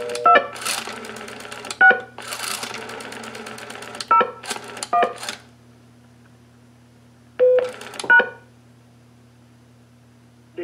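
A pulse-dial to DTMF converter in blue box mode sends several short bursts of electronic tones, separated by pauses, over a faint steady hum.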